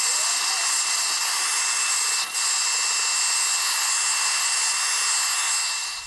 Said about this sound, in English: The vacuum might not be too bad in the video.